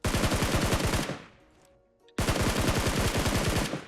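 Rapid automatic gunfire from a video game rattles in two dense bursts separated by a short, quiet gap.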